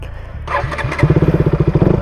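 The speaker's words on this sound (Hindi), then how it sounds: "बाइक को सिंपली स्टार्ट करो।" A used KTM motorcycle engine cranks briefly, then fires and settles into a loud, close, rhythmic idle with steady pulsing thumps.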